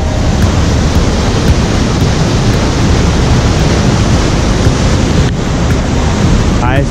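Rushing water at Athabasca Falls in Jasper National Park makes a loud, dense, unbroken roar that fills the whole clip, with some wind buffeting the microphone.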